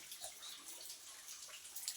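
Water drips steadily onto a Shiva lingam, a soft irregular patter of small drops and trickles with a watery hiss throughout, fairly quiet and without talk.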